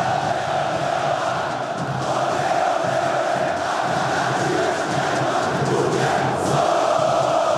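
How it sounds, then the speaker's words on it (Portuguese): Vasco football supporters singing together in a packed stadium during a Copa do Brasil match against Fortaleza, a dense, steady roar of massed voices that fills the whole stretch without a break. "nesse momento do jogo, a torcida do Vasco voltou a cantar feliz"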